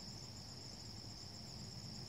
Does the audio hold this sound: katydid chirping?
yes